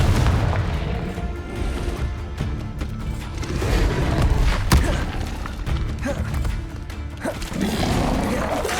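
Spell explosions from the Hogwarts Legacy video game, a continuous dense barrage of booming blasts and thuds with one sharp burst midway, loud and close throughout with no talk.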